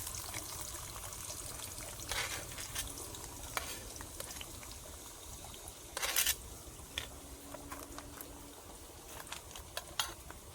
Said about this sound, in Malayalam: നമ്മൾ വെളുത്തുള്ളി ഉള്ളിയിലിട്ടിട്ട്, അതായത് വെളുത്തുള്ളി ഇഞ്ചിയിലിട്ടിട്ടൊന്ന് വഴറ്റിയെടുക്കുന്നുണ്ട്